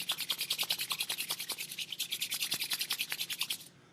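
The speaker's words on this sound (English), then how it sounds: "rub our hands together, generate some heat, some friction." Two palms rubbing briskly together to build heat for a qigong facial self-massage, a quick even back-and-forth swishing of roughly a dozen strokes per second, close and clear, stopping abruptly.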